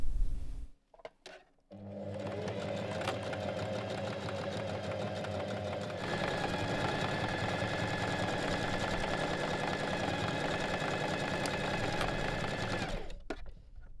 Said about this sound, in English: Now, finish the edges of the shoulder seams with your serger or zigzag stitch.